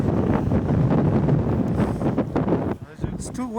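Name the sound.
wind blowing on the microphone outdoors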